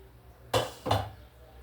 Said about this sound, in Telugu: అందుకని నేను డైరెక్ట్గా వేసేస్తానండి దొండకాయ ముక్కలు